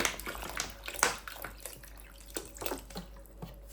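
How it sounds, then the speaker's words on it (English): Water poured from a container into a cooking pot while preparing a herbal detox and cough drink; a steady, close splashing stream with a few sharper drips and no talking. "I'm adding another 1 liters of water to it."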